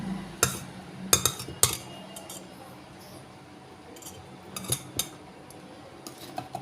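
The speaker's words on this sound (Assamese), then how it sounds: "এতিয়া কণীটো মই এইদৰে ফেটি লৈছোঁ।" An egg beaten in a bowl for doughnut batter, with irregular bursts of quick utensil clinks against the bowl separated by quiet pauses, close and fairly faint.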